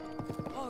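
Horse hooves clip-clopping at a steady trot while riding in The Legend of Zelda: Breath of the Wild, four or five even hoof beats close by over a constant background hum.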